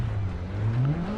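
Car engine revving in the Dirt Rally video game, a steady mid-pitched drone whose pitch climbs gradually as it accelerates, continuous and fairly loud with no talk over it.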